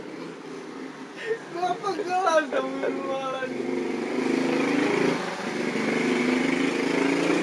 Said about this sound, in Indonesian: Ada motor lagi lewat.